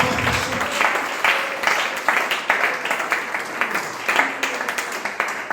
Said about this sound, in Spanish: Alguien quiere darle un aplauso mejor al Señor.